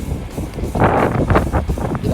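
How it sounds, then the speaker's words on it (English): Gusty wind buffets the microphone in loud low rumbling bursts, with a voice faintly mixed in. "It's windy as shit out here."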